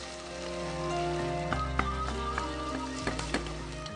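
Chopped onion and garlic frying in a pan, a steady close crackling sizzle with scattered pops throughout.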